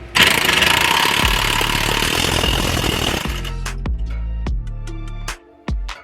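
An impact wrench or similar power tool tightens a strut bolt on the suspension of a 2020 widebody Dodge Charger or Challenger during a lowering-spring install, a loud sustained whir for about three seconds followed by several sharp, separate bursts.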